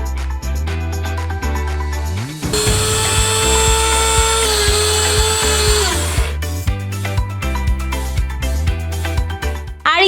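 An electric grinder whirs at high speed as it powders coriander seeds, a loud steady whine for several seconds between shorter rattling bursts and clicks of the jar, close by.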